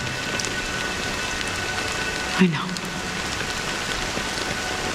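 Steady rain pours in the video game Honkai Star Rail, an even, constant hiss of drops on surfaces, with a brief spoken voice near the middle.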